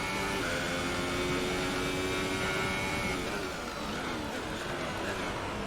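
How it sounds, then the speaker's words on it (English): A damaged Formula 1 race car engine in F1 2018 at Hockenheim whines and drones steadily with a harsh, strained mechanical tone, staying loud and continuous throughout. "Car definitely sounds real unhealthy."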